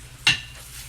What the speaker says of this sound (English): Hear that nice sizzle of the pan.